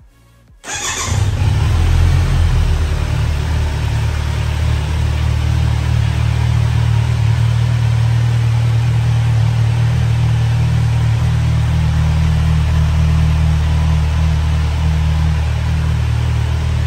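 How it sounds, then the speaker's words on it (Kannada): A 2023 Kawasaki Z900 motorcycle engine starts with a sudden burst after a brief quiet moment, then settles into a loud, steady, close idle that continues unbroken with no talking. "ಬೈಕ್ ಸ್ಟಾರ್ಟಪ್ ಆಯಿತು."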